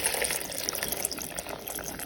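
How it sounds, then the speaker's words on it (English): Water streams steadily into a moi moi mixture in a plastic container while a Nigerian bean pudding is prepared, a continuous close gushing pour lasting the full two seconds with no talking. "I'll be adding the water."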